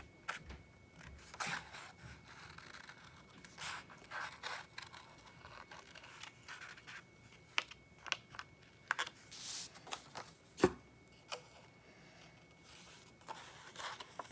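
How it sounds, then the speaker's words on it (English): Scissors fussy cutting around shapes on a paper printable, soft, irregular snips and paper rustles close by, quiet and spread across the whole stretch with no talk. "I'm just going to go around and just kind of fussy cut."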